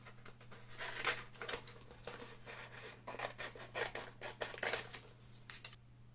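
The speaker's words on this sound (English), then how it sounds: "So we'll cut a small piece and we can reuse this for everything that we're using here." Scissors snip through a small piece of transfer tape for a miniature craft ornament, a series of close, crisp cutting strokes in an irregular rhythm, alone without talk.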